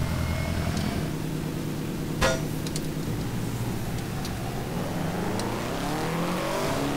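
A Subaru BRZ driven fast in Garry's Mod, its engine droning steadily with pitch rising and falling as it speeds up, plus a brief sharp knock midway; no one talks.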